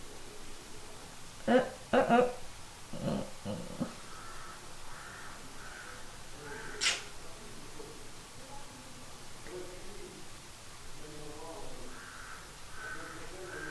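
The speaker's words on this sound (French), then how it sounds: "Et il y a un chat blanc qui est en train de se faire emmerder par des corbeaux." Crows harass a white cat outdoors, giving a cluster of loud, harsh caws early on, one sharp call midway, then fainter, scattered cawing in the distance.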